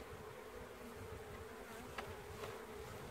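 Honeybees from a busy top bar hive in a Langstroth-style box buzz steadily as the hive stands open, a dense continuous drone with no voices.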